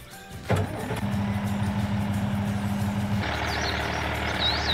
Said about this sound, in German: Ich starte mal den Traktor.